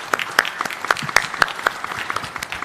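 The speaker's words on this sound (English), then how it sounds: "can I have a round of applause for our panellists" A small audience applauds panellists at a business forum, with distinct sharp individual claps in a loose, uneven rhythm that thins out toward the end.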